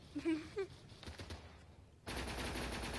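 Automatic gunfire in the online shooter Zula, a few rapid bursts near the start, fairly faint, followed by a louder steady game noise bed.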